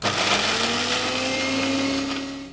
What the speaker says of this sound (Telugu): మనం ఇప్పుడు వీటన్నిటిని మెత్తగా పేస్ట్లో మనం గ్రైండ్ చేసుకుందాం